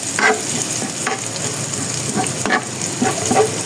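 Chopped onion sautés in a hot pan, giving a steady close sizzle broken by a few soft stirring scrapes. No one speaks.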